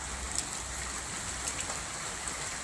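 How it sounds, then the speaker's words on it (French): Light rain lingering after a thunderstorm in the Rhône-Alpes region, a steady soft hiss of drops on surfaces at moderate distance, continuous and even with faint scattered patters and no voices. "Et il reste encore un peu de pluie."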